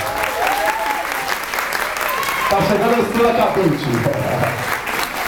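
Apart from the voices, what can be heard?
audience applause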